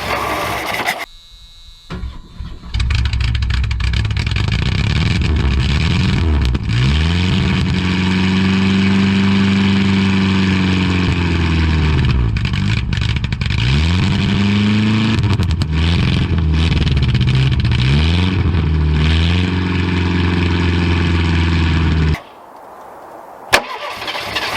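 A classic car engine cold-starts after a brief crank, then idles loudly and is revved repeatedly through a long run of rising and falling engine pitch, with a sticky throttle linkage and accelerator pump, before cutting off.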